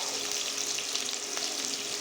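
Chicken pieces fry in a pan for chow mein, giving a steady, close sizzle with crackling pops and no talk over it.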